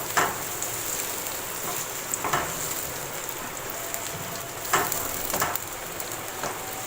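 Onions frying to light golden in a pan for keema, a steady moderate sizzle with occasional louder crackling bursts and stirring scrapes, continuous with no talking.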